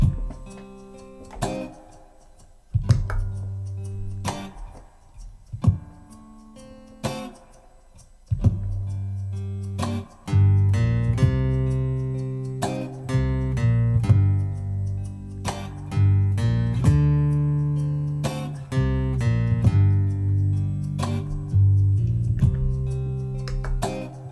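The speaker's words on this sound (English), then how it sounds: "So all together, looped in, it should sound like this." A looped bass line played on a guitar through a loop pedal repeats steadily with punchy low notes and percussive attacks, played alone without voices.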